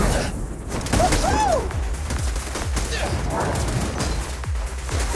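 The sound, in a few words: gunfire in the video game Zenless Zone Zero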